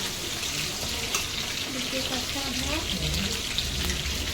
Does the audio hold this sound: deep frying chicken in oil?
yes